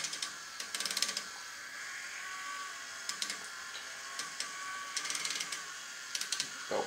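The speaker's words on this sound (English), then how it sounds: "an Adafruit motor shield, just a little TT motor, and a speed controller." A small TT motor runs from an Adafruit motor shield with a speed controller, spinning a scratch-milling spinner. It gives a steady, fairly quiet whirring hum broken by recurring bursts of rapid rattling ticks, with no talking.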